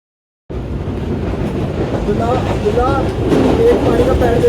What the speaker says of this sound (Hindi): मैं आज आपको दिखाता हूँ जी कि ट्रेन का इंजन कैसा होता है।